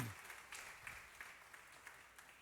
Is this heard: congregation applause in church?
yes